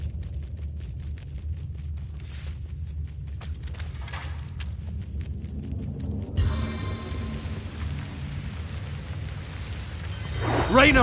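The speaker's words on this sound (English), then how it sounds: "Rain of rock!" Rain of Rock spell from the video game Divinity: Original Sin, a rumbling, crackling downpour of rocks that builds steadily, with a hissing surge midway and a louder burst at the end.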